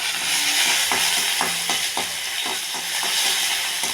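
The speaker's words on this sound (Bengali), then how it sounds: "নাড়াচাড়া করবো।" Ginger, cinnamon, cloves and cardamom fry in a pan while being stirred, a constant loud sizzle broken by repeated scraping strokes at an uneven rhythm.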